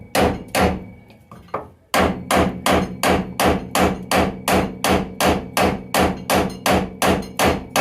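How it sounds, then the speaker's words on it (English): Hammer tapping a rusty bolt through with its nut threaded back on the end, a loud close series of about twenty sharp metallic blows in a steady even rhythm after a few lighter first taps. "so you just tap it through"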